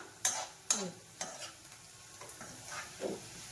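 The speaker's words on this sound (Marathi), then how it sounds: "पण बारीक गॅसवरती चांगला तळायचा आहे कांदा" Dried onion frying over a low gas flame, a soft quiet sizzle with a few distinct scraping stirs and light clinks at the start, fading to sparse taps.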